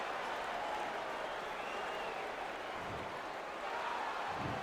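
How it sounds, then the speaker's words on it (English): A capacity crowd at a boxing match between Charlie Edwards and Carl Frampton applauds and murmurs, a steady, fairly distant wash of clapping and crowd noise. "So a capacity crowd here for this one."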